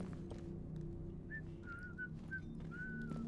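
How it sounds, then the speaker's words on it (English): In the video game Atomfall, an outlaw whistles a few short, faint melodic notes somewhere off to the side over a low ambient game drone. "Outlaw on the other side, whistling."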